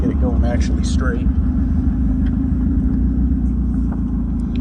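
A Jeep Wrangler fitted with very large tires idles and pulls away in first gear, its engine giving a steady, loud low rumble throughout, with a voice briefly speaking over it near the start.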